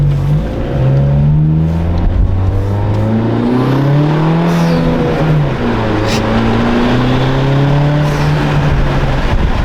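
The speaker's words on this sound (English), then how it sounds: "taking this thing out on a drive, not even warm, but already you can hear a lot of blow off." A 2024 Honda Civic turbo with a PRL high-volume intake and titanium inlet pipe, driven while not yet warm, engine droning and rising through gears with brief whooshing blow-off releases between pulls, loud and close inside the car.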